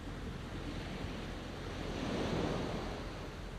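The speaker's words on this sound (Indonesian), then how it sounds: "Lihat ombak di sana. Tidak bosan-bosan menepis pantai sepanjang zaman." Ocean waves break on a shore in a steady, rushing wash with wind noise, swelling a little louder midway before easing back, with no voices.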